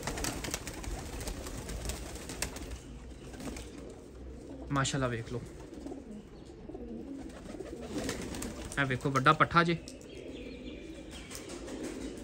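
Teddy and Golden pigeons coo softly close by, with two sharp bursts of wing flapping standing out, while someone talks over them throughout.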